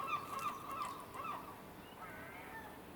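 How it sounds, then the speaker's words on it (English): Birds squawk and honk loudly and repeatedly, a noisy chorus of overlapping harsh calls from nearby. "Can you hear the birds?"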